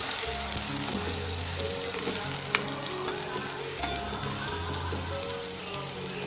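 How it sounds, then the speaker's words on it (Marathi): Ground spices such as garam masala and coriander powder sautéing in a pan, a continuous sizzle with rhythmic scraping and stirring strokes close by, no voices. "मसाले परतून घेऊ."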